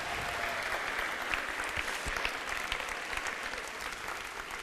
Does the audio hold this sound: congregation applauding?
yes